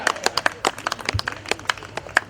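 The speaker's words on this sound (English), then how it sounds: "Another round of applause for Commissioner General, please." Conference audience clapping, a thin scattering of separate claps in an uneven rhythm, moderately close and fading out after two seconds.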